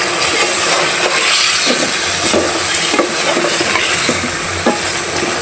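Chicken and pumpkin sauté in a pan, giving a loud, steady sizzle with occasional scraping and stirring clatter from a utensil, close-up and continuous, with no talking.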